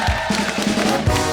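A loud crowd cheers and shouts, with a roar of voices and some clapping mixed into the din.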